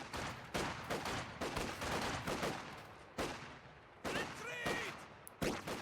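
Bursts of machine gun fire and other battle shots rattle in Company of Heroes 2, repeated clusters of rapid cracks over a rumbling war backdrop, close and loud, with brief electronic tones between volleys.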